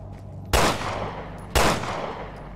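Two sharp, loud gunshots about a second apart ring out in the horror video game Resident Evil Revelations 2, each with a short decaying tail over a low ambient hum.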